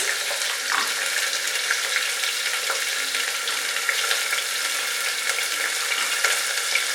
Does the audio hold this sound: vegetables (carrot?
yes